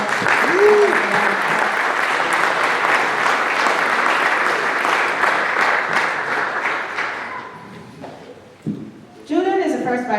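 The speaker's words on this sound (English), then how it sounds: "That alone deserves" An audience at a community council president's inaugural address applauds with dense, sustained clapping for about eight seconds that fades out before a speaker's voice resumes.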